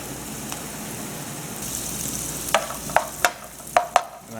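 Butter sizzling in a hot pan with garlic and onion, a steady soft hiss of frying broken by several sharp clinks and scrapes of stirring toward the end.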